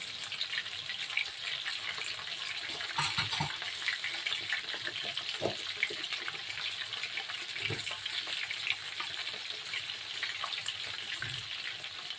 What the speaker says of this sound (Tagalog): Pag nagluluto, ang daming hugasan.